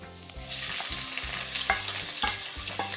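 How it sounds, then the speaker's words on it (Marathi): Whole dry spices crackle and sizzle in hot oil in a pan, a steady close hiss with a few sharper pops, under music. "आता ह्यामध्ये आपण सर्व सुके मसाला खडे घालूया एक अर्धा मिनटासाठी आपल्याला हे परतवायचे आहेत"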